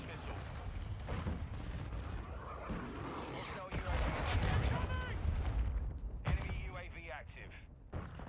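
Rapid bursts of automatic gunfire in Warzone 2, loud and close with recoil-heavy spraying, mixed with game effects and intermittent voices over the shooting.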